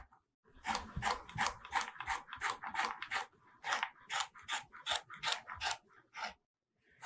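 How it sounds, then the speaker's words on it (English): A knife dicing carrots on a cutting board for a zucchini and squash pozole, a rapid, fairly regular series of crisp chopping strokes in bursts, close and distinct, with no talking. "And then we'll dice up our carrots for our soup and for our pozole"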